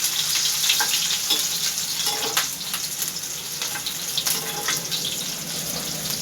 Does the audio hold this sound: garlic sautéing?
yes